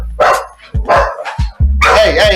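Several dogs bark loudly and close by in short separate bursts, with a quick run of overlapping barks and yips toward the end and no talking over them.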